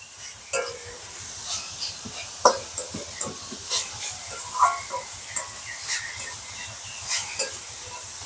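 Grated coconut being stirred in a pan while cooking for a puffed-rice pitha filling, with a soft steady sizzle and repeated scraping strokes of a spoon against the pan, fairly close and without speech.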